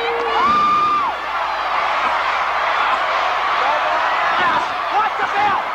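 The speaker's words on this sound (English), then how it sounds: "Look at this crowd, listen to them." A wrestling arena crowd cheering and whooping at ringside, a loud sustained roar with shrill whistles and shouts rising over it throughout.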